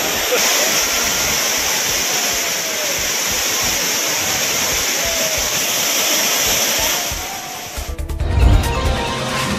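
A waterfall pours steadily with a dense, continuous rush of falling water at a bathing spot. The roar stays loud and unbroken, then becomes rougher and more uneven near the end.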